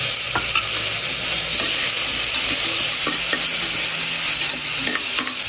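Shallots (small onions) fry in hot oil for country chicken pepper chicken, a loud continuous sizzle with repeated spoon scrapes and taps against the pan as they are stirred.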